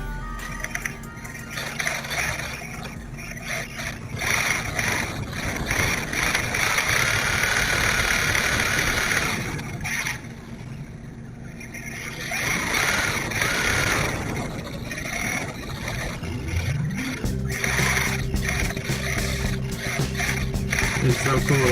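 Traxxas E-Revo RC car driving outdoors on wet ground, a whining electric motor and gear buzz that surges and fades continuously, with a rising whine toward the end.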